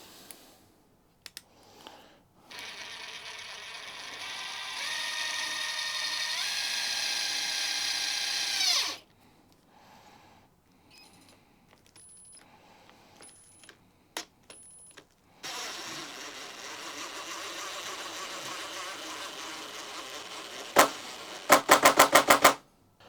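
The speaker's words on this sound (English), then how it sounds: "Let's grab a smaller fastener and just look at Speed 1 with this one." A DeWALT DCF845 XR cordless impact driver on speed 1 drives a small fastener in loud, close bursts of rapid hammering impacts, separated by quiet gaps and ending in short sharp clicks.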